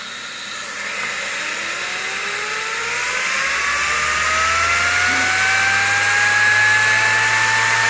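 A Tesla turbine runs steadily as air is drawn into its intake, a loud continuous whir with a high whine that climbs slowly in pitch, alone and close.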